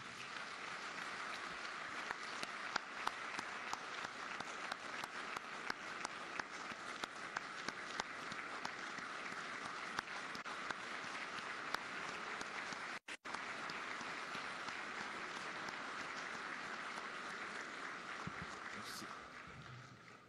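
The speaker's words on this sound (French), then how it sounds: "vous méritez notre admiration et nos acclamations frénétiques" A large audience at a governors' conference applauds, dense sustained clapping that fills the room almost without pause, with a brief break partway through and the ovation continuing afterward.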